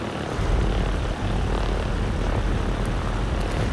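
Piper PA-38 Tomahawk light aircraft in the X-Plane 11 flight simulator, rolling out after touchdown. A steady, loud propeller and engine drone mixed with a broad rumble carries on without a break, and no voices are heard.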